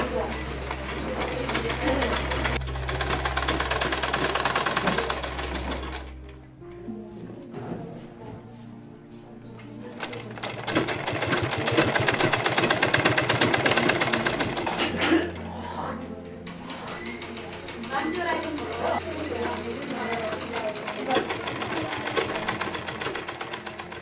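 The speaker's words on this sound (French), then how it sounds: "a reçu une machine à coudre" A sewing machine stitches in loud rhythmic bursts with steady mechanical whirring, pausing briefly between runs, while a voice narrates over it.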